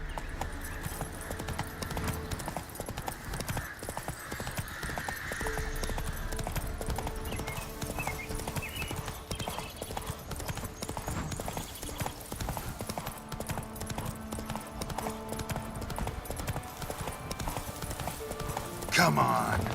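Roach, a horse in the Witcher 3 video game, clip-clops along in a steady hoof rhythm under constant game ambience, with someone talking over it.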